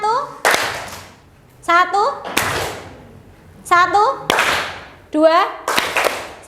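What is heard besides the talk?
group hand clapping in rhythm game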